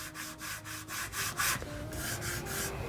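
Rhythmic rubbing strokes against a smooth matte guitar body finish, about a dozen quick back-and-forth swipes, close and fairly quiet.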